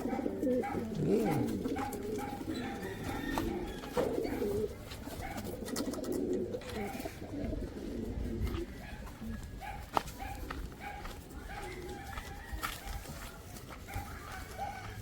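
Racing pigeons cooing close by in a loft, soft repeated low coos over a rustling background with a few faint other birds and distant voices.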